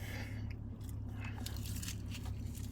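Close crunching bites of bold Cinnamon Toast Crunch cereal, a series of crisp, rapid crackles over a steady low background hum, with no talking.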